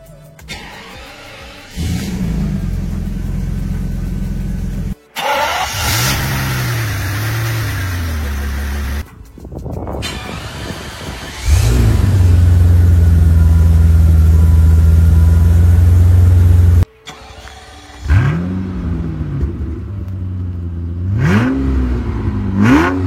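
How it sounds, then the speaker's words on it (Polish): A large BMW V12 car engine, M70 or M73, cranks and fires up, then revs repeatedly, rising and falling in pitch, with a steady idle between bursts. "BMW V12 M70 bądź M73. Dźwięk uruchamiania tego silnika to klasyka gatunku"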